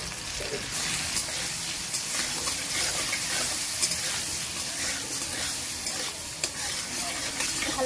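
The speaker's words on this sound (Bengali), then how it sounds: "ভালো করে ভেজে নেব।" Young jackfruit curry with turmeric fries in a pan for a prawn and jackfruit dish, a dense, steady sizzle layered with repeated spatula stirring and light scraping throughout, close and unvoiced.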